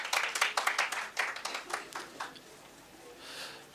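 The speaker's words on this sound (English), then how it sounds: "And you are clapping." An audience at a medical congress panel session claps in a brief burst of applause that starts fairly strong and then fades out over a few seconds.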